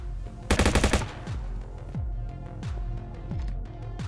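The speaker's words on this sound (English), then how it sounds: "Okay, maybe we'll try some full auto" An automatic rifle fires a short full-auto burst in the VR shooting game Shotwood, a loud rapid rattle lasting about half a second, followed by several single reloading or mechanical clunks and a low background hum.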